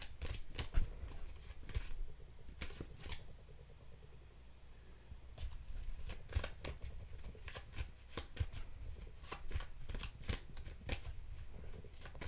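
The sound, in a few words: shuffling tarot cards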